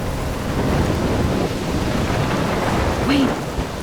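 Thunderstorm in the game Life is Strange: steady heavy rain and rumbling thunder roar continuously and loudly, with a brief faint tonal whine near the end.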